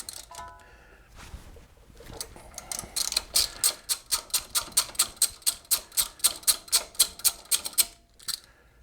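A hand ratchet with a 10mm socket loosens a bolt on a car's front brake assembly, a quick series of about twenty crisp, evenly spaced clicks after a few scattered taps.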